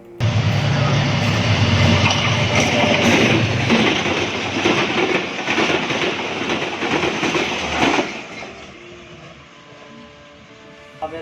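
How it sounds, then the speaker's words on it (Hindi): Bahauddin Zikri Express led by locomotive AGE 306030 rolls loudly past a Pakistan Railway level crossing, a steady close roar with clattering wheels for about eight seconds, then fading to a quieter rumble with light clicks. "इस वक्त जो ट्रेन अप्रोच कर रही थी वो 25 अप बहाउद्दीन ज़िक्री एक्सप्रेस थी।"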